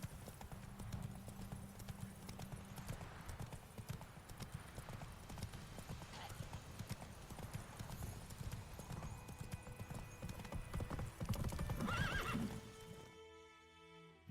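Geralt's horse Roach trotting in The Witcher 3, a dense continuous clip-clop of hooves with an occasional snort or whinny, close and steady before cutting off near the end.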